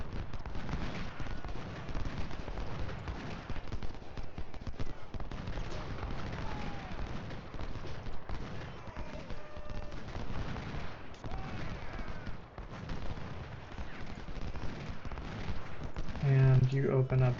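Continuous rattling musket gunfire aimed at artillery in the video game Ultimate General Civil War, at the Chickamauga battle, steady volleys throughout with a voice talking over them.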